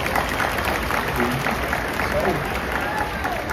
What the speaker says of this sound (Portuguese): Uau, uma salva de palmas.